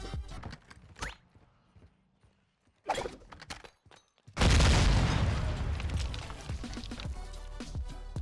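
Crash Bandicoot Wumpa fruit explosion effect from a tracer pack in Warzone DMZ: a few short clattering sounds and a pause, then a sudden loud burst that swells into a long, slowly fading roar.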